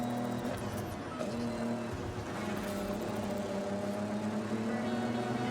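A car engine in a video game drones with a steady whine that rises and shifts slightly, holding close and constant without pauses.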